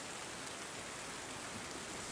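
Steady rain falls in the video game Terra Nil, a soft, even hiss of ambient downpour that stays constant throughout, with no voices.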